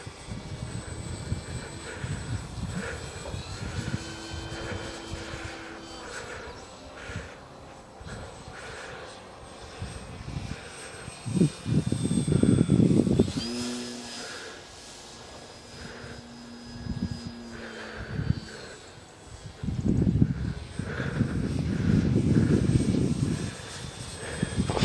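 A Dynam Beaver RC model airplane flies on its maiden outing on wheels after a rebuild, its small electric motor droning and whining in waves as it passes nearer and farther, with wind noise rumbling underneath.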